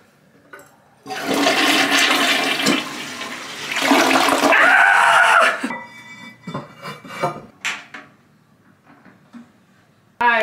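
A newly installed toilet in a home bathroom renovation flushes loudly, a strong rushing swirl lasting several seconds with a second surge, then gurgling refill trickles and a few clunks as it settles, with no voices.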